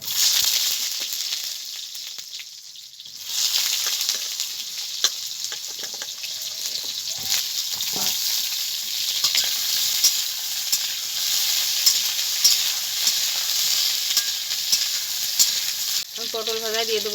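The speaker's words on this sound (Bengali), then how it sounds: "এখন আমি প্রথমে পটলটাকে ভেজে নেব।" Pointed gourd fries in hot mustard oil in a wok, a continuous close hiss and crackle with occasional stirring clatter, the sizzle swelling after a quieter start.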